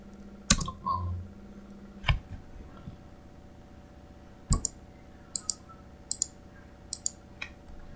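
Computer keyboard keys are tapped during a drafting software tutorial, giving sparse, sharp clicks spaced irregularly, with a few quick clusters near the end against a low steady hum.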